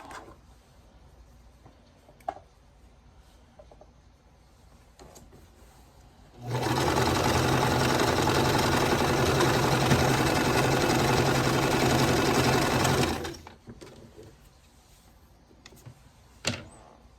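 A sewing machine stitches quilt pieces for a calico bird quilt kit in one continuous loud run of about seven seconds, whirring steadily before stopping, framed by quiet room sounds and a few small clicks and bumps.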